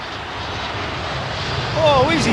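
Jet airliner in TAP livery at a wintry London Heathrow Airport, a loud steady engine roar with a rising whine near the end, with voices talking over it.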